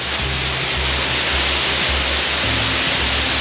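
Waterfall on a mountain trail roars as a loud, steady broadband rush close by, with a low rhythmic thumping underneath.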